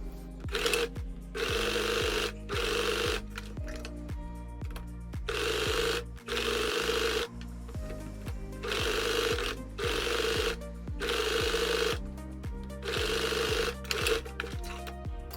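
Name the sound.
overlocker overlocking fabric edge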